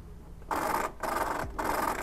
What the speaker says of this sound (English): see that sounds really bad and that means it needs pinion gear fluid